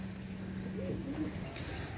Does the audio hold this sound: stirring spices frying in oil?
no